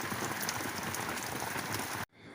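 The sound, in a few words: rain on a foggy day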